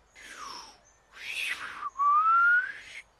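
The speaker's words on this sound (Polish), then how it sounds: "Czy ja właśnie gwiznąłem?" A cartoon pig whistles through pursed lips in three tones: a breathy falling note, a fuller airy burst, then a clear, steady rising whistle that holds for about a second before fading.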